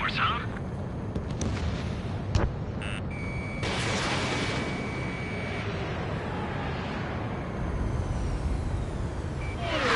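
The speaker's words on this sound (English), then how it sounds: "Mage 1 launching missile." Missile launch and explosion sounds from a PS4 military shooter: heavy rumbling blasts and a sharp boom around the middle over continuous loud battle noise, with a tonal whine and game radio chatter mixed in.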